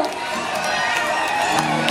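Concert crowd in Villalobón, Palencia cheering and whooping in a steady, loud wash of voices, with no clear gaps.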